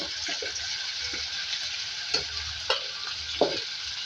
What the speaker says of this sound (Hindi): और इसको फ्राई करेंगे।